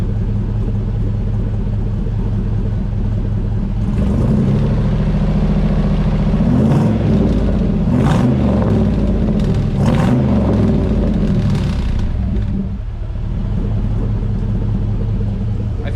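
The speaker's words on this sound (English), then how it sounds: "You can almost hear the idle change." The LS-swapped Firebird's engine idles with a steady low rumble, its note wavering a little as the idle shifts, with a few brief louder bursts in the middle, close and continuous with no talking.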